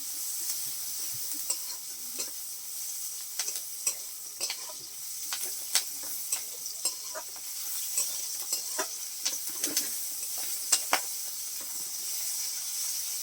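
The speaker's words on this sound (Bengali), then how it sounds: "পেঁয়াজগুলোকে একটু ভালো করে ভেজে নিচ্ছে" Onions fry in a pan with a soft hissing sizzle, while a spatula scrapes and stirs in repeated short strokes up close.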